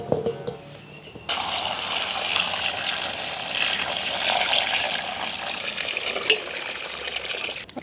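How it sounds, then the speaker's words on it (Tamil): Tomatoes are rinsed in water for a village-style tomato biryani, producing a continuous close splashing and running-water sound with a brief louder slosh near the end and no voices. "தக்காளி பழத்தை நல்லா வடிவாக கழுவி எடுப்போம்"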